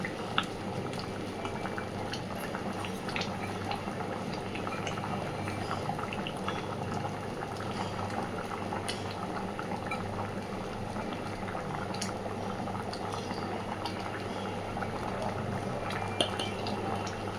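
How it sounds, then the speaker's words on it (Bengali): A pot of masala khichuri boiling steadily, with continuous thick bubbling and popping throughout, close and moderately loud, and no speech. "তবুও আমি এখনও আরেকটু ফোটাতে থাকবো।"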